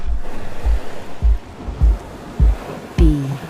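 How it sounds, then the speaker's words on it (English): Ocean surf at a wingfoil competition in Brazil, rolling water with repeated low thumps of waves surging and crashing roughly every half second, close and fairly loud, over a constant wash and wind rumble. "The water rolls, surges, and crashes right through you and out the other side."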